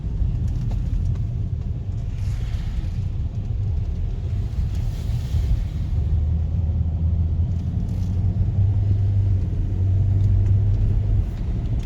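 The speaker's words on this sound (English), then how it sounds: "let's hear that diesel." A diesel engine idles with a steady low rumble, close by and continuous, with a slight change in tone partway through.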